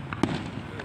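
Fireworks burst over a city during the Fortuna Firework Festival, heard as one sharp, fairly distant pop followed by a short rumble against a constant outdoor background.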